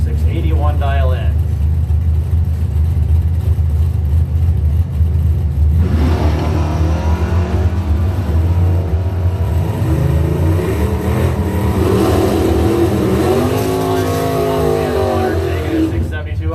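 A 1971 Dodge Challenger and a 1983 AMC Spirit launching side by side at a drag strip, loud roaring engines revving and pulling away, with a track announcer talking over the noise throughout.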